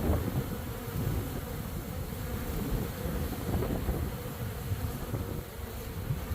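A five-frame honeybee colony busy at the hive entrance with foragers bringing in pollen, a dense, continuous buzzing hum close by, mixed with some outdoor wind noise.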